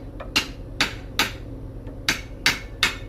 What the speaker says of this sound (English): and then hammer it down right there.